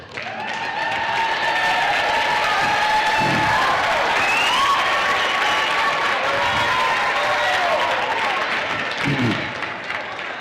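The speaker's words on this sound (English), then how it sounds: "give them a round of applause" Guests at a university graduation ceremony give a sustained round of applause, a dense, steady wash of clapping from a large crowd that holds for the whole stretch.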